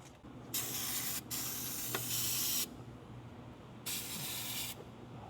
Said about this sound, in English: using the whole entire bottle oil, penetrating oil on this master cylinder